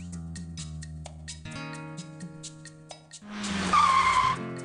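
A sports car's tires squeal in a loud, sustained cartoon skid effect in the Arthur's Puppet Theater game, rising over light background music near the end.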